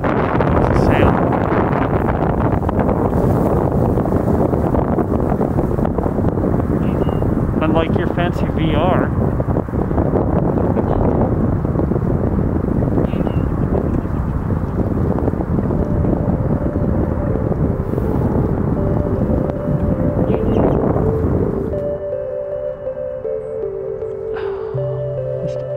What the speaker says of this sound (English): Can't do the wind.